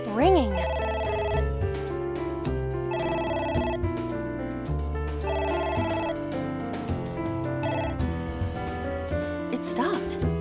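Telephone ringing in AI: The Somnium Files, a run of regular electronic ring bursts layered with game music, repeating steadily across the whole stretch.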